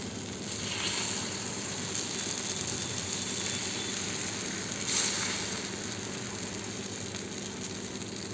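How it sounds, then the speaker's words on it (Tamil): Wheat flour rava dosa batter sizzles steadily on a hot stone griddle, a faint continuous hiss and crackle heard up close with no speech. "ரவா தோசை ஊற்றுற மாதிரி ஊற்றிக்கலாங்க."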